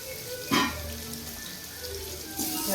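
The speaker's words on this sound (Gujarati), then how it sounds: "ગાજર આવી રીતના તેલમાં પેલા કરી નાખીએ, એકદમ પકાવી નાખીએ" Carrots fry in oil in a pan with softened salted onions, giving a close, continuous sizzle with a couple of louder crackling bursts as they are stirred. No one speaks.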